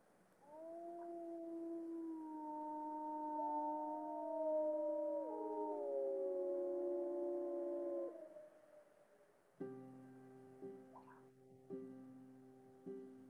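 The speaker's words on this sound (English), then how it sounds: "You're listening to wolves howl." Several long, sliding gray wolf howls overlap in a sustained chorus, rising and falling together, then give way to shorter, stacked tonal calls with brief gaps.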